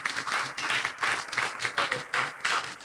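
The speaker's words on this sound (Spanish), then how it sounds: "¿Cuántos le dan un aplauso por lo que viene para su vida en esta mañana en el nombre de Jesús?" Church congregation applauding during a Sunday morning sermon, a steady wash of many hands clapping in rolling bursts that rise and dip throughout, moderately close and filling the room.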